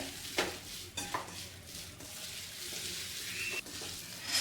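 Red chili and ginger-garlic paste being stirred in a hot pan for restaurant-style soya chili, giving a steady close sizzle with a few sharper scraping strokes of the spoon against the pan.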